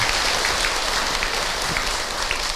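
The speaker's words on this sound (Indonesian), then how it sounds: "Sekali lagi tepuk tangan Ibu untuk AA Hilman." An audience at an Indonesian religious lecture applauds for preacher AA Hilman, a loud, continuous wash of many hands clapping at once with no pauses.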